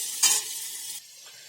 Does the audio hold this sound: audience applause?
no